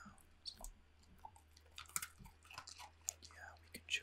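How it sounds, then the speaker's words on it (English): An animal chews on human food nearby, giving soft, irregular wet chewing and crunching clicks scattered over a few seconds, quiet and close against a low steady hum. "So you can hear the chewing sound as well."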